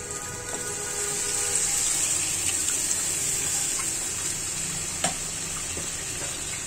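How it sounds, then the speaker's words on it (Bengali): Mung dal goes into hot oil with frying spices in a pan, making a continuous bright sizzle with a few soft stirring clinks, close and steady throughout. "আমি এখন আমার এই যে মুগ ডালটা ছেড়ে দিচ্ছি"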